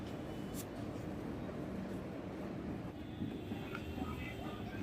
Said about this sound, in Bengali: ডাউন জম্মুতাবাই কলকাতা এক্সপ্রেস কলকাতার দিকে চলে যাচ্ছে